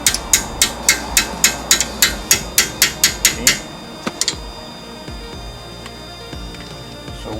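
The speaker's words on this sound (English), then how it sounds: "We just need to remove this bolt" Impact tool or ratchet rapidly working a brake caliper bolt loose on a car's front wheel, a quick series of about a dozen sharp clicks close by, then quieter handling noise and a couple of faint knocks.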